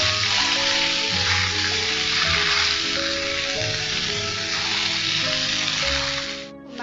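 Potato masala for Mysuru masala dosa is stirred in a pan, a loud, dense, steady hiss of cooking with low clattering underneath that fades away at the very end.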